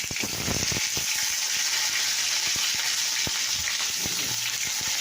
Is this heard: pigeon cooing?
no